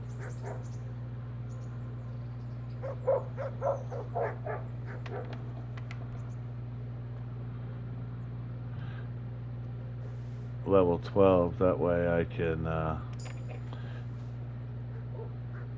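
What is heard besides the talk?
dogs barking in video game Kingdom Come: Deliverance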